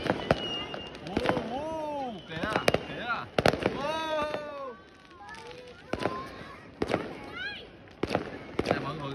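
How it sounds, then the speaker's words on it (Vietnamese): Fireworks exploding over Ho Chi Minh City for the 2025 New Year, a string of sharp bangs and crackles at irregular intervals, with a crowd talking and exclaiming throughout. "Nè mọi người ra xem pháo hoa quá trời luôn."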